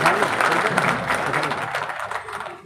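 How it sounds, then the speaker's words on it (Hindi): A crowd at a BJP political gathering in Dausa claps loudly in welcome, a dense burst of many hands with some crowd noise that tapers off slightly toward the end. "मेरी बहनें माताओं के लिए एक बार जोरदार ताली बजाकर स्वागत"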